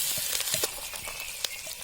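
Green chilies dropped into hot oil in a pan while cooking a Nepali-style spicy pork curry, a faint, close sizzle with small crackling pops, no voices.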